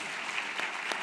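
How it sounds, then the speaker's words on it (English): An audience at a talk on Special Forces in the Mediterranean claps for the speakers, a steady mid-volume patter of many hands with a few sharper claps standing out, no voices over it. "Round of applause."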